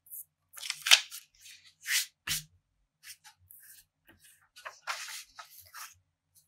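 Scissors cutting a delicate paper image for a collage, giving a few short, soft snips and paper rustles spread across a quiet background.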